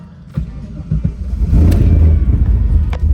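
A car's engine revs and swells into a loud rumbling pull away in first gear after a few quieter clunks, the sound growing and holding steady near the microphone.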